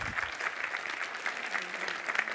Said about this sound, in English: Yeah, give them another applause.